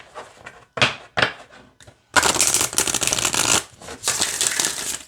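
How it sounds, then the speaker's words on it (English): Oracle cards being shuffled: a few quick riffling flicks, then a longer, loud continuous riffle followed by another burst, close up. "let's go ahead and see how they shuffle"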